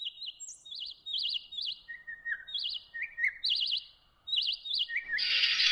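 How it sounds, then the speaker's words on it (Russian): A nightingale sings from a branch near a house: repeated bright trilled phrases and whistled notes, clear and fairly close, with short pauses between bursts and a noisy rush at the very end. "Тут запел на ветке возле дома соловей."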